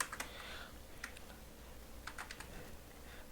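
Fingers tap on a computer keyboard while a React project is set up with yarn, scattered light clicks in short irregular runs, faint and close in a quiet room.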